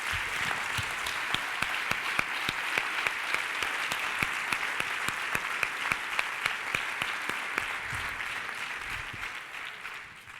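An audience at a plenary conference lecture gives a long, sustained round of applause, many hands clapping densely at moderate distance with a few sharper claps standing out, tapering slightly at the end.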